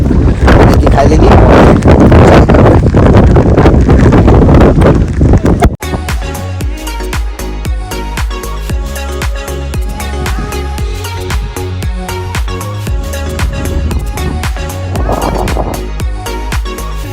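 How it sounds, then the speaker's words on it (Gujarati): Wind at a monsoon hill station in Waghai, Dang, Gujarat, blows hard across the microphone in loud rumbling gusts, then gives way to a quieter stretch with music-like tones over the breeze. "પવન પણ મસ્ત આવતું છે"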